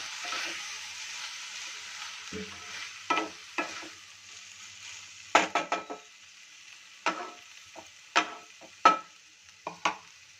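Drained moong dal hits a hot pan with a steady sizzle, broken by several sharp scraping stirs and clatters of a spoon against the pan, close and fairly loud, with no voices.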